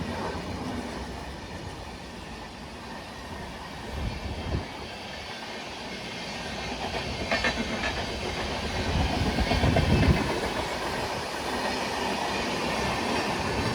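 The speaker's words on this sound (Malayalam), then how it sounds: "നമ്മുടെ ലെജൻഡറി നേത്രാവതി എക്സ്പ്രസ് ഇതാ കടന്നു പോയിരിക്കുകയാണ് പള്ളിപ്പുറം" The Netravati Express rolls through the small Pallippuram station, a steady loud rumble of wagons with faint wheel squeal and rhythmic clatter building toward the middle and holding to the end, with no talk.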